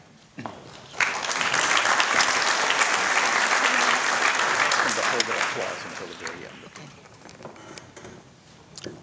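An audience at a university honors convocation applauds steadily for several seconds, a broad sustained wash of clapping that swells quickly and then tapers off.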